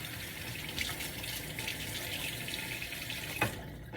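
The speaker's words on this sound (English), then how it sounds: "Let me rinse my hands." Tap water runs steadily into a kitchen sink while hands are rinsed, a soft continuous splashing with a couple of brief louder spatters.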